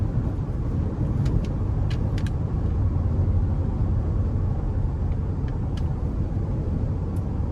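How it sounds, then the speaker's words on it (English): Steady broadband wind and road rumble inside a 2021 Cadillac Escalade ESV Sport cruising down the road, a constant moderate hush with a few faint high ticks and no talking. "And the wind noise is just a tad noticeable, but I can feel the insulation doing its thing."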